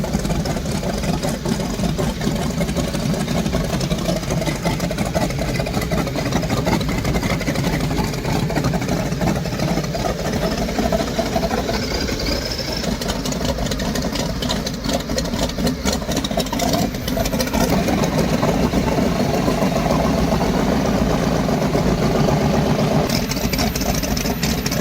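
M14P radial aircraft engine running, a dense, loud, continuous mechanical roar with a rough, pulsing texture throughout, steady and close with no pauses.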